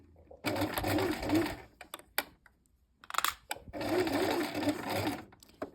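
A sewing machine stitches along a 1 cm hem while sewing a shirt, running in two loud, sustained bursts with short pauses and small clicks between them.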